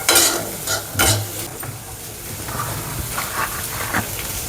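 Onion roasting in a little oil in a pan for Kolhapuri misal, loud scraping stir strokes and clatter of a spoon against the pan over a continuous soft sizzle, with irregular repeated stirring.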